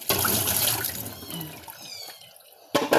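Water gushes from a tap with splashing, fades to a trickle, then surges again briefly at the end.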